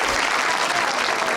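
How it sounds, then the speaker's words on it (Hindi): Studio audience on a talk show breaks into quick, dense clapping, a short even burst of applause. "तालियां इसके लिए,"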